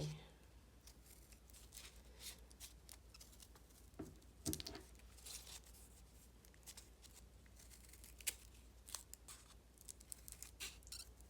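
Scissors snip small triangles out of material in short, irregular clips, close and quiet, with a few sharper cuts scattered throughout and light handling noise between them.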